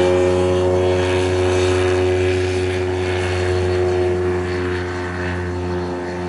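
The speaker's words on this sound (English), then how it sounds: "Tailwheel up first and then the mains, a nice takeoff" Tailwheel airplane taking off, a loud steady propeller engine drone with strong even hum, sustained close throughout and easing slightly at the end.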